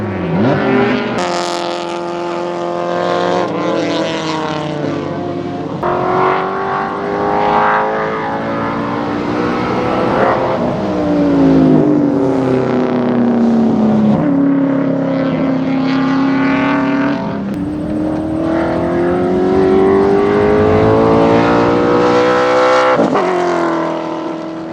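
Race cars lap a track during qualifying at Baskerville, engines roaring loudly and continuously as several cars pass close by, pitch rising and falling with gear changes and Doppler sweeps, no talk over them.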